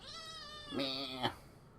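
A kitten meows twice close by, a drawn-out thin cry followed by a shorter, rising second meow, fairly quiet and alone.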